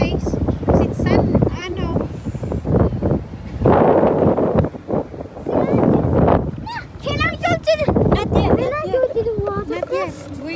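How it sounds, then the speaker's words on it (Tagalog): Strong gusty wind buffets the microphone on a beach at New Smyrna, Florida, roaring in loud waves beneath steady adult talk and children's voices. "sa sobrang lakas ng hangin"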